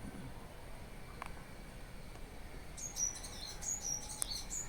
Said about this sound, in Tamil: இந்த குருவி சவுண்ட் பாருங்கள்.